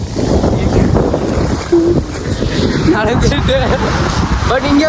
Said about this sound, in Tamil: பக்கத்துலேயே அலை வந்து ரொம்ப ஃபோர்ஸாக வருது.